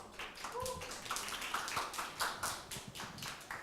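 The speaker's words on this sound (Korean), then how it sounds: "큰 박수 부탁드리겠습니다." Audience applause at a conference session in Korea: a steady wash of many hands clapping, fairly distant and moderately soft, continuing throughout.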